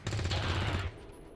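Submachine gun fire in the game XCOM Long War of the Chosen, a rapid, loud rattling burst that stops abruptly partway through.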